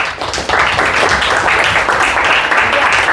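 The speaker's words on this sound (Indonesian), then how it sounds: "Kasih tepuk tangan." A classroom audience claps after a student's presentation at a school arts and culture performance, dense continuous clapping at close range, loud and even after a brief quieter start.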